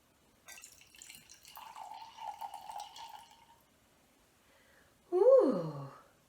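Liquid mixed with bleach pours into a cup in short trickling and splashing bursts, faint and close, followed after a pause by a brief louder splash as the pour finishes.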